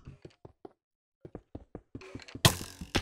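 Series of hollow clicking, knocking rattles in irregular bursts from skeletons in a cave in a video game, ending with a louder noisy crash.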